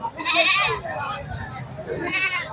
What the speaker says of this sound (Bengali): বেশ কয়েকটি ছাগল কিনেছে।